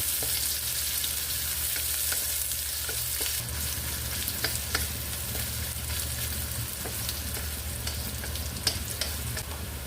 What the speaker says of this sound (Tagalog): igisa natin yung sibuyas na maayos, yung mawawala na yung katas nya para mas masarap at mabango yung niluluto natin